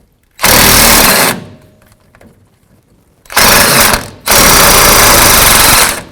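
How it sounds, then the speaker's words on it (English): An electric impact wrench works on a rusty 9/16 bolt during ABS sensor replacement on a 1997-2004 Dodge Dakota, giving three loud, close, sustained hammering whirs: one burst of about a second, then a pause, then two longer bursts. "And now I'm going to use the electric gun, because hopefully the vibration"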